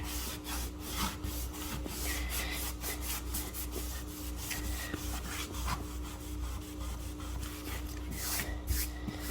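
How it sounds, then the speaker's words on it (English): A microfiber cloth wiped over a damp wooden surface gives steady, close rubbing and swishing strokes with a soft repeated rhythm. No one speaks. "I'm taking the microfiber cloth and going over it again"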